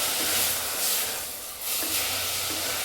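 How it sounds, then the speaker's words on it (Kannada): Palak (spinach) leaves fry in a pan for a spinach rice dish, giving a loud, steady hiss and sizzle that dips briefly midway, then returns at full strength. "ಪಾಲಕ್ ಸೊಪ್ಪು ಸ್ವಲ್ಪ ಹಸಿ ವಾಸನೆ ಹೋಗೋವರೆಗೂ ಫ್ರೈ ಮಾಡ್ಕೊಳ್ಳಿ"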